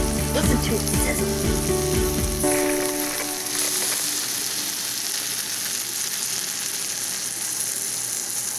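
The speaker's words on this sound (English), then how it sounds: "Listen to it sizzle." Loud, steady sizzling of a gluten-free pizza cooking, a continuous crackling hiss with some clattering at the start.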